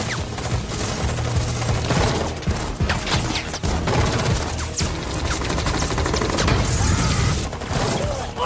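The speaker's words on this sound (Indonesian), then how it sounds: "Dan terjadi baku tembak antara mereka dan teroris." Film shootout with terrorists in London: dense, loud bursts of automatic gunfire and sharp shots rattle nonstop, mixed with booms and mechanical clatter over a heavy soundtrack.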